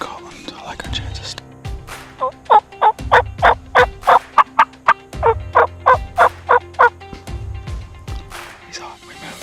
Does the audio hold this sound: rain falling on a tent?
no